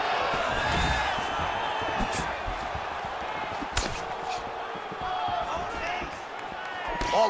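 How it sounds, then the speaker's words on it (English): A video game crowd at a UFC 4 fight murmurs and swells in reaction during the bout, with sharp impact thuds now and then and a commentator talking over it. "you hear the crowd react every time they come together"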